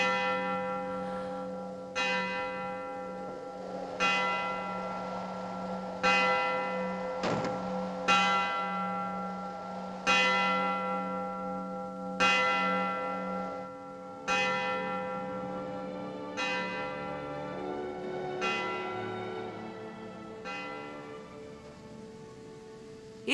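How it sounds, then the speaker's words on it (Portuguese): A church bell tolls slowly and loudly, about a dozen evenly spaced strikes, each ringing out with a long shimmering decay that overlaps the next. "ouviu o sino?"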